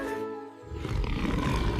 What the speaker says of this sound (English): He has very big teeth and a very loud roar.